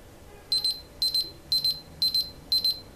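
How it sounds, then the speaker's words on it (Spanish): A discontinued Victorinox timer sounds its alarm-clock style beep: five evenly spaced bursts of rapid, bright electronic chirps, loud and close, with no talk. "Cuando termine, va a sonar que es el mismo del despertador"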